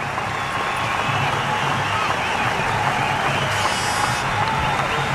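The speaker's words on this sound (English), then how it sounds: "the applause from the balcony of the Sri Lankan side" Steady applause and crowd noise from spectators at a 1999 Aiwa Cup cricket match between Sri Lanka and India, a continuous wash of clapping heard from a distance, with no clear voices on top.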